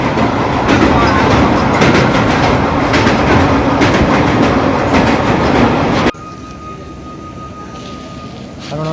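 A train crosses the Kathajodi bridge, loud continuous rumble and rhythmic clatter of wheels over the rails for several seconds, then dropping abruptly to a quieter, distant hum as the carriages pass.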